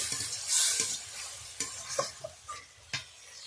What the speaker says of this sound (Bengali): ওর মধ্যে দিয়ে দেবো হলুদ গুঁড়ো, দিয়ে আবারও কিছুক্ষণ কষে নেব